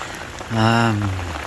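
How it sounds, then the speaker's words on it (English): Heavy rain and strong wind batter a fishing bivvy on a carp fishing trip, a steady wash of rain on the surface with a brief tonal sound rising over it midway. "it's lashing it down and blowing a hoolie"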